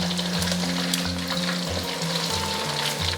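Balled clusters of nori seaweed deep-frying in oil over medium-low heat, a steady dense bubbling sizzle throughout with a low hum underneath, no talking.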